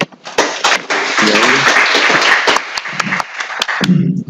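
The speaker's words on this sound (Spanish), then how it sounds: "Fuertes aplausos." Audience at a medical lecture applauding a speaker, loud continuous clapping with sharp individual claps standing out, while a voice talks over part of it.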